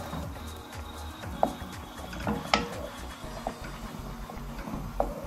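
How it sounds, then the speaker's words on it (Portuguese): Spoon stirring a chickpea stroganoff in a cooking pot, with soft scraping and scattered clicks of the utensil against the pot, a few sharper knocks standing out over low background noise. "Agora é só tá misturando isso aqui muito bem."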